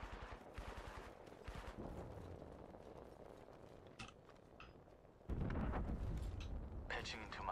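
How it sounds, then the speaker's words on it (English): Rapid bursts of gunfire in the video game Apex Legends crackle in the background, with a louder, denser burst near the end; a voice talks over parts of it. "I hear gunfire over here."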